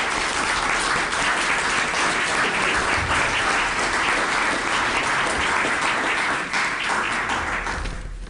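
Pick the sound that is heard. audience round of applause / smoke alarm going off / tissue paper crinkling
audience round of applause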